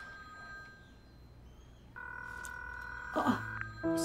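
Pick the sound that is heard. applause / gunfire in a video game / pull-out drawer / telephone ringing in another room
telephone ringing in another room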